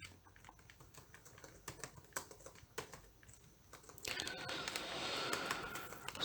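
Code being typed on a computer keyboard during a C++ arrays lesson: irregular close key clicks, then a denser burst of rapid keystrokes over a rising background hiss.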